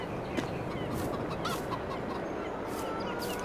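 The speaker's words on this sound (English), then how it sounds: "Which chickens up here?" Chickens clucking in the Farming Simulator 22 video game, on a micro-farming map, with a steady background of soft clucks and a few sharper calls, no talking over them.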